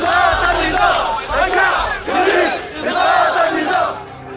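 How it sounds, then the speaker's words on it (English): A large crowd at a street demonstration in Sudan against President Omar al-Bashir chants slogans in loud, rhythmic waves, voices rising and falling together in a steady repeated cadence. "Crowds chanted slogans from the Arab Spring revolutions of"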